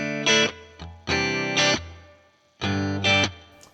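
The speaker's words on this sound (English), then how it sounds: "So we've got some reverb going on from the amp." Electric guitar played through a Two Notes Torpedo Captor X with the amp's reverb cranked to about one o'clock, giving three loud distorted chord stabs, each followed by a ringing reverb tail that fades between hits.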